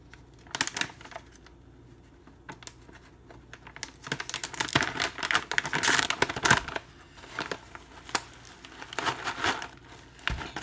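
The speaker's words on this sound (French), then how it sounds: "je vais juste prendre un couteau. Couper le tout." Knife slicing through a crinkly plastic snack bag of almonds, pumpkin seeds and pecans, close up, with scattered crackling rustles that build into a denser burst of crinkling and cutting midway.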